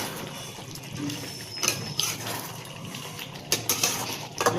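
Soaked potatoes dropped into a pot of home-cooked chicken biryani, with metal spoon clinks, scrapes against the pot and a few sharper clatters.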